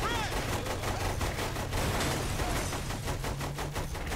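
Rapid gunfire in Saints Row 3 rattles on continuously in dense, loud bursts, layered with game effects and background music, with a voice talking over part of the firing.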